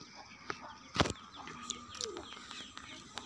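Pigeons cooing softly outdoors in a village near the Pakistan–India border, with a few faint chirps and a brief flutter of wings, set against quiet ambient background noise.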